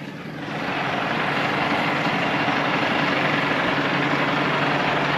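A tractor engine runs steadily in a hay field during spring work, a loud continuous droning hum with a low rumble that swells in over the first second and then holds even, with no talk.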